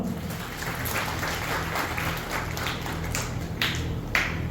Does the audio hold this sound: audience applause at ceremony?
yes